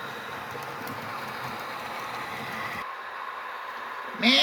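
An HO scale model Santa Fe train runs on a layout with a steady, even mechanical rumble. The rumble cuts off abruptly near the end, and a brief louder noise follows.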